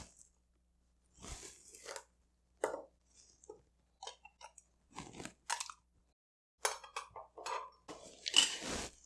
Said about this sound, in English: we're going to put 2 large ice cubes